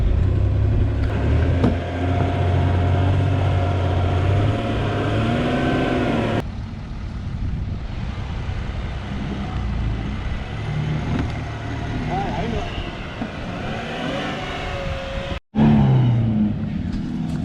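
A bogged Land Rover Discovery 3 engine revs hard and steadily, its pitch rising and falling as the wheels spin in mud, with a brief dropout near the end. Voices are heard faintly under the engine noise.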